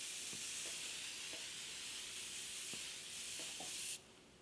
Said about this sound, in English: I love a continuous setting spray.